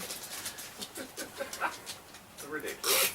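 A dog named Frank whimpers and pants in short, breathy bursts close by, ending in a louder rush of noise.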